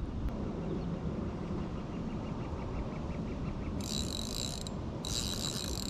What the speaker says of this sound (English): my reel is just absolutely peeling off line